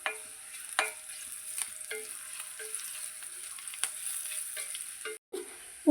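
Chopped onions and spices for dill palya fry in a pan with a steady close sizzle, punctuated by scraping stirs of a spoon at irregular intervals, and no voices.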